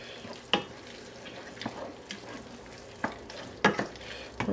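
Concentrated Italian tomato paste is stirred in a hot pan, giving a soft, steady sizzle with a few distinct spoon scrapes at irregular intervals, close by, with no voices.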